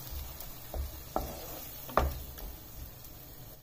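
Seafood mix being stirred in a pan of simmering coconut milk, faint soft scraping and a few sharp spoon knocks over a low quiet bubbling.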